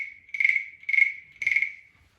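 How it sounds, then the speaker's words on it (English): A small desk-toy frog gives three buzzy, rasping croaks in a row. The croaks are close and fairly loud and trail into silence, with no speech. "This is my frog. It makes a frog sound."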